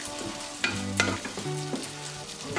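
Sorrel frying briefly in a pan for a potato omelette, a close, steady sizzle with a few quick stirring scrapes.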